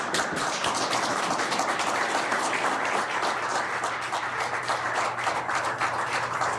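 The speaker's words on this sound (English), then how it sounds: "A round of applause inside the room there." Steady applause fills an indoor room at an energy agreement signing, many hands clapping densely and evenly throughout without a pause.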